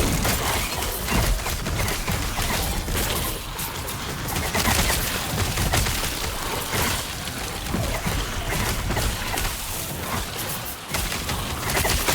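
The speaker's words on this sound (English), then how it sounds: "Just stand there and get blasted by those little ice bolts." Little ice bolts blast the player character in the action RPG Last Epoch, a dense, continuous barrage of sharp impact bursts and crackling hits with game effects, loud and unbroken throughout.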